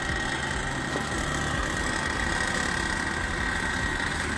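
Small engine of a homemade powered paraglider trike running during a ground taxi test, a steady loud droning buzz with wind noise throughout, close up and no talk.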